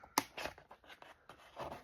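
A few crisp snipping and rustling sounds of paper being cut, close up and fairly quiet, with short pauses between cuts.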